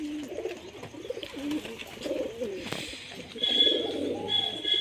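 A female pigeon, one of a pair, gives soft, repeated throaty coos close by, running continuously over a light background hiss and a faint high tone.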